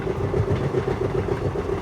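An express train of ICF coaches, the Narsapur Express, runs at about 80 km/h, its continuous rumble steady and close with a faint repeating clatter beneath, no voices.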